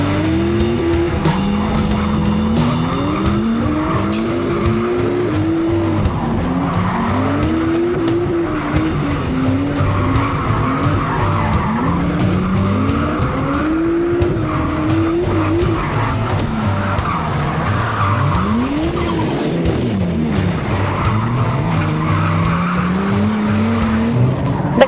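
An R34 Nissan Skyline with a naturally aspirated engine drifts, its engine revving in loud, sweeping rises and falls while tires skid and squeal almost continuously, close and sustained throughout.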